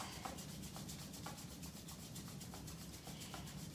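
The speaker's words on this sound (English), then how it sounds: "And again, rub your hands." During a yoga session, palms rub briskly together in a quiet, close, continuous swishing friction with a faint rhythmic back-and-forth pulse, with no voices.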